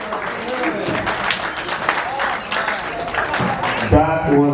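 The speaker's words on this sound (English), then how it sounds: "A round of applause for Dr. Kiwi." Audience applause at a gala, a steady broadband wash of clapping that fills the room for about four seconds before a voice cuts in near the end.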